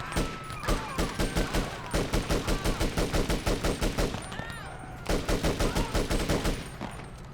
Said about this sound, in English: Dispatch, be advised, we got multiple armed suspects. They're shooting.